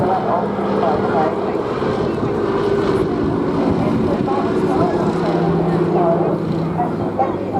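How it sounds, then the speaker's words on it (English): A Fairey Swordfish biplane drones past at a seaside airshow, a steady, moderately loud propeller hum blended with wind and a continuous commentator voice over it. "the Swordfish now is flying parallel to the beach in the direction of the pier"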